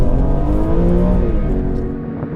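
A BMW with the motorsport-derived S54 straight-six revs hard up close, a loud, rich engine note rising and falling steadily without a break across the whole moment.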